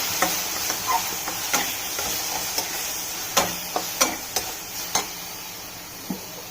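Plain dal with salt and turmeric is stirred into sautéed fenugreek leaves in a pan, with a spoon clicking and scraping against the metal in an irregular rhythm over a faint, steady sizzle.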